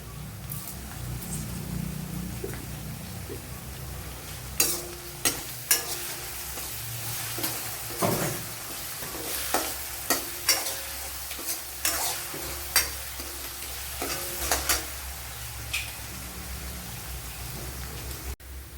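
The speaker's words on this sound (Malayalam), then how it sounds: "ഇവിടെ ഇഞ്ചിയും വെളുത്തുള്ളിയൊക്കെ മൂത്ത് വന്നിട്ടുണ്ട്" Ginger and garlic frying in oil for a home-style chicken curry, a soft continuous sizzle broken by repeated sharp clinks and scrapes of stirring.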